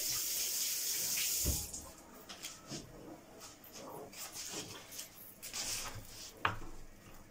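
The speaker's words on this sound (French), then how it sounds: "Je lave les mains vite fait." Running tap water pours steadily at first, then hands are rinsed under a kitchen faucet with intermittent splashes and clatters, moderately close and fairly quiet, with no talking.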